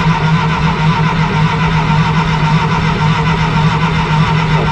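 A 1953 Willys Jeep CJ-3B engine cranks over continuously, a loud, close, steady rhythmic churning of the starter with no catch, running the whole time without pause.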